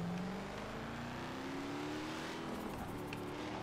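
In the racing game Forza Horizon 3, a car engine revs and accelerates in a steady rising whine, close and continuous for a few seconds with no talk.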